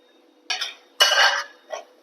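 Eggs stirred in a pan as the water cooks off, with three separate bursts of utensil scraping and clinking against the metal, the middle one longest and loudest, and short quiet gaps between them.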